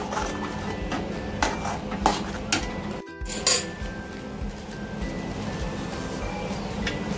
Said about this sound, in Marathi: मसाला सारखा फिरवत राहायचा आहे, खाली लागू द्यायचं नाही आपल्याला